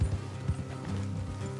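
Rhythmic hoofbeats of horses clopping along in Red Dead Redemption 2, steady and moderately close, with a faint mechanical rattle underneath.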